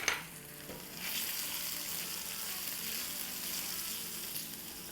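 Two large chopped green chilies drop into hot oil for masoor daal. A brief clatter is followed by a steady, bright sizzle that holds close and even to the end.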